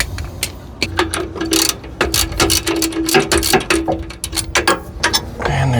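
Hand ratchet undoing rear brake caliper bolts on a 1999–2006 Chevy truck, a series of sharp clicking strokes in uneven bursts with brief pauses, close and clear, no speech.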